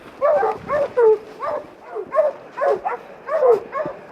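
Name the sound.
hounds barking at treed animal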